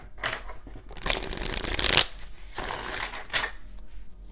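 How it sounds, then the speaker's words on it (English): Tarot cards shuffled by hand, heard as several bursts of papery riffling and flicking, the loudest in the middle, close and clear with no talking. "Let's do one more shuffle just in case."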